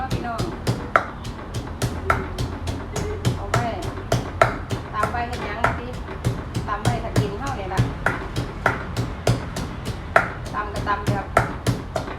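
Chili paste being pounded in a mortar at home, with a steady run of sharp, regular thuds close by, roughly two strikes per second, while a voice talks over the rhythm.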